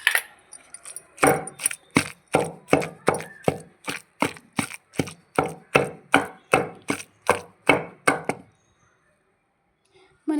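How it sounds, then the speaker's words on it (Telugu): Tamarind pickle is pounded with a pestle in a steady run of about twenty sharp, woody thuds at a regular rhythm. The strokes are close and loud, then stop and leave near silence. "ఇలా బాగా మెత్తగా అయ్యేంతవరకు దంచుకోవాలి."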